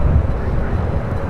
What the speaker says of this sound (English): This is United Airlines 678 taking off to Cleveland on the 737-800.